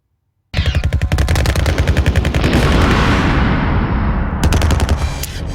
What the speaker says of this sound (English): That explosion sounds like it's kind of in a space, as opposed to in an open environment.